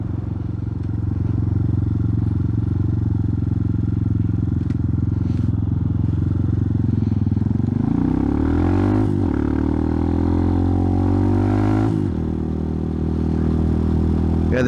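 An Amazon Dual Sport Hawk 250 motorcycle engine runs steadily up close, then revs in two rising and falling sweeps with some mechanical clatter, with no talking.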